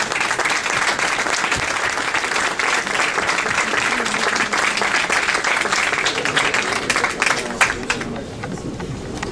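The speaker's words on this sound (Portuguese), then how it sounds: "de bater palmas mais uma vez para o João Grande e para o João Lama" Crowd at a book presentation in an El Corte Inglés store in Vila Nova de Gaia applauding loudly and steadily, the dense clapping thinning out near the end.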